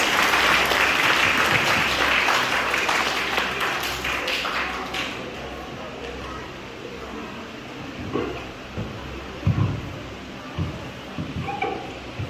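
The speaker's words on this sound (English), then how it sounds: "Please give a big round of applause." An audience at a school elocution competition award ceremony applauds loudly at first, the dense clapping gradually thinning and fading out, with scattered taps and thumps near the end.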